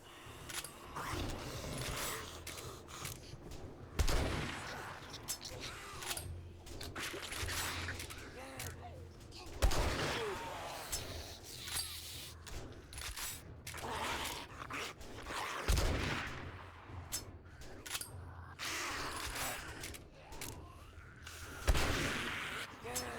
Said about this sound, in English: We're just shooting non-stop to get rid of these guys